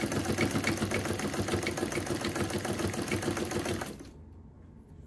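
A vintage Sanco (Janome 539) sewing machine runs a straight stitch with a fast, steady mechanical chatter, loud and close, stopping abruptly near the end.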